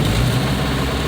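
Steady low diesel idle from a 1960 Mercedes-Benz 190d, a continuous heavy rumble running unbroken and fairly loud with no voices over it.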